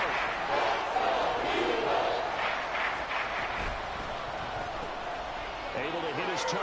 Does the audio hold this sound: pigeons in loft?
no